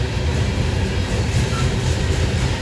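Norfolk Southern coal train heading to Lambert's Point Yard rumbles past at close range, a steady heavy low roar of rolling freight cars with a continuous rail hiss and no break throughout.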